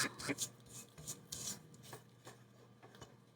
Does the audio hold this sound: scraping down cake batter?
yes